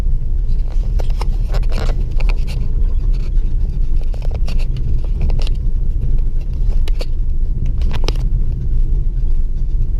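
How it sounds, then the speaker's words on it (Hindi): A manual car drives along a rough road with a steady low engine rumble and road noise throughout, with occasional bumps and rattles from the uneven surface. "आप देखिए गाड़ी किस तरह से चल रही है।"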